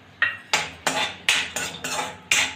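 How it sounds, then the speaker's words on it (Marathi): Dry fruits frying in ghee, stirred in a pan, sounding as a series of about seven sharp metallic spoon scrapes and clinks at an irregular rhythm, close and distinct. "थोडेसे ड्राय फ्रूट याला फ्राय करून घेऊया आपण"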